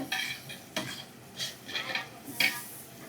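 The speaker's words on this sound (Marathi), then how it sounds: "कांदा आणि टोमॅटो मिक्स करणार आहे आणि शिजून घेणार आहे तेलामध्ये" Onion and tomato frying in oil, stirred with a metal spatula that scrapes and clinks against the pan in uneven strokes over a light sizzle, close by.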